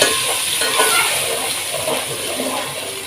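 Water poured into a pot of frying onions for a beef yakhni pulao, giving a steady loud sizzle and bubbling hiss that stays fairly even throughout, with no talking.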